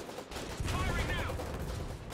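A tank gun fires in the war game Foxhole, one heavy blast with a booming low body and a ringing tail that holds for about two seconds, loud and close.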